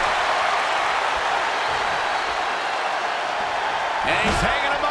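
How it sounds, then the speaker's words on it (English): Dense, roaring crowd noise fills a wrestling arena throughout, a loud sustained wash of cheering with a brief sharper burst near the end. "The sound of this crowd is deafening, and he's asking for more."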